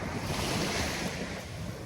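Surf breaking and rolling in the open sea at sunset, with steady wind buffeting the microphone, a continuous loud wash of waves and gusts with no voices.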